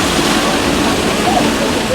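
Rushing, splashing water from the interactive Moana's Journey of Water attraction, a steady broadband wash like a small waterfall or fountain that stays loud and constant throughout.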